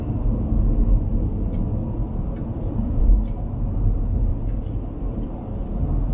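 A car cruises along a wide four-lane freeway in Hong Kong's New Territories, a loud, steady low engine and road rumble heard from inside the cabin, with no speech.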